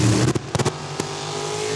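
Drag racing car on the strip at Saskatchewan International Raceway, a loud engine roar with a few sharp throttle blips and stutters before settling into a sustained drone.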